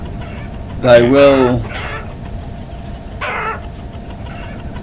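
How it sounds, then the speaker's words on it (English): A chicken in the video game Vintage Story gives a loud, squawking cluck burst, then a shorter second cluck, with someone speaking briefly in between. "Now the chicken's mad at me for heaven's sake."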